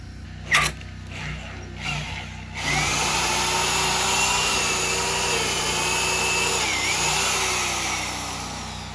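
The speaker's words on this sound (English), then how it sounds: "Take the drill bit," A couple of clunks, then a loud power drill whirs steadily, its pitch wavering as it bores into wood at an off-grid cabin build, close and continuous.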